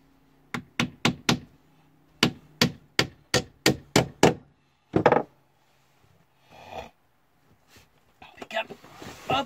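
Hammer blows drive nails into a wooden storage compartment, two quick runs of sharp, close knocks followed by a few duller thuds and handling noise.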